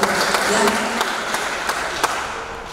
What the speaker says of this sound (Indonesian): Tepuk tangan untuk sastrawan Indonesia Timur ya